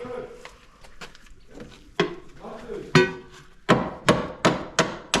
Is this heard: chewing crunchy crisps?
no